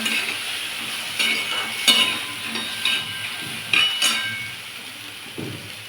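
Sprouted chickpeas fry in a pan with a constant hiss, punctuated by occasional spoon clinks and scrapes as they are stirred.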